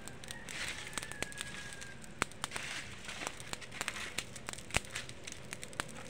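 Burning household trash in an outdoor bonfire crackles and pops with scattered sharp snaps over a soft windy hiss, faint and close.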